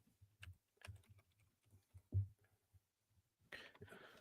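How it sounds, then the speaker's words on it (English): Typing on a computer keyboard comes as scattered soft key clicks in short irregular bursts. The clicks are close and quiet, with a brief louder rustle near the end. "Have to switch back and forth to typing in .info."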